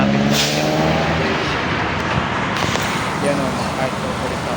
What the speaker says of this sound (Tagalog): sobrang traffic po ngayon.